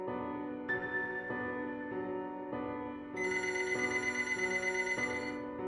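A telephone rings in repeated bursts with a bright electronic tone, steady and alone, growing fuller and louder partway through.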